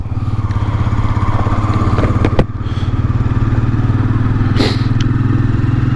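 Royal Enfield Meteor 350 motorcycle riding through town traffic, its steady thumping single-cylinder drone loud and continuous from the rider's position, with a sharp thud partway through and a brief rise in passing noise near the end.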